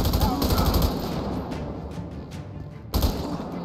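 Rapid automatic gunfire from a GTA 5 police mod shootout in a favela at night, loud dense bursts of overlapping shots that ease off briefly before another sharp burst near the end.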